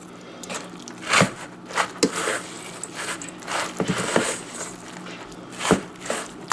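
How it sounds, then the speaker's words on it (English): Salmon cake mixture with mayo and crushed crackers being stirred in a bowl, giving intermittent scraping and knocking sounds of a utensil against the bowl, close and fairly quiet with no talking. "Basically, going to stir all this up until it's all combined."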